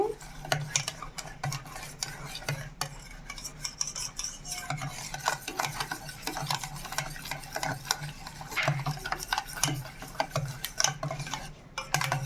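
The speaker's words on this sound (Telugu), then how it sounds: "ఇలా బాగా కలుపుకోవాలి" Milk powder mixture for homemade junnu being stirred in a bowl, a continuous rapid scraping and clinking of utensil against the container, close and fairly loud, with occasional faint speech.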